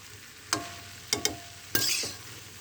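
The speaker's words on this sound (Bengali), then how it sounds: "ভালোভাবে আমি মিক্স করে নেব।" A utensil stirring cabbage and radish cooking in a pan: four sharp scraping strokes, two of them close together, over a soft background sizzle, each scrape followed by a brief rustle of the vegetables.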